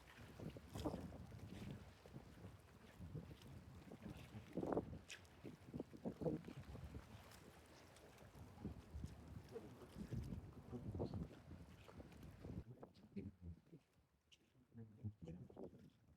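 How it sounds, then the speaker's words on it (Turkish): Strong gusty wind during a night fishing trip in a storm buffets the microphone in heavy low rumbles, with bursts of louder roaring and occasional voices underneath. "Aşırı rüzgar var."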